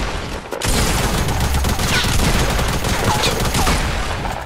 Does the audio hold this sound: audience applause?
no